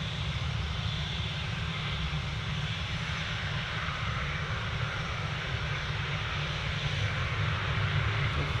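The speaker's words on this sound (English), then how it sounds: "British Airways off to London Heathrow." A British Airways airliner departing Manchester Airport for London Heathrow, its engines a steady, continuous broadband roar with a strong low rumble that holds at fairly even loudness throughout, heard alone.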